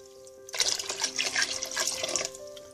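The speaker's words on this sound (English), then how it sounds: "I've just poured the red kidney beans in the pressure cooker, and I'm going to fill them with some water." Water pours steadily into a pressure cooker holding red kidney beans, a continuous splashing fill for about two seconds after a brief quiet start, close and alone.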